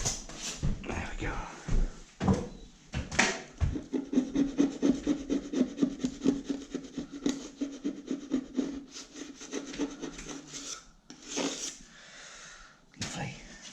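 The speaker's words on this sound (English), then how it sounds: "What is that on there? It's like a glue. Just have to scrape that off." Glue is scraped off a wooden door frame with a hand scraper in short, repeated rasping strokes, close and fairly quiet, with brief pauses between them.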